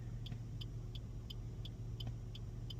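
Morning peak-hour road traffic with cars in a busy street in Mandurah, Australia: a steady, loud low engine and tyre rumble fills the whole stretch, with faint regular ticking on top and no talking.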